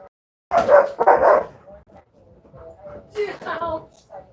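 A big dog barks loudly and close in a couple of rough bursts, followed by softer whining and yipping vocalizations with a voice mixed in.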